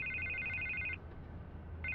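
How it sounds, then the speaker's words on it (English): An electronic telephone rings in Batman: The Telltale Series, a steady repeating warble for about a second, a pause, then the ring starting again over a quiet low room hum. "I can't get the phone to stop ringing."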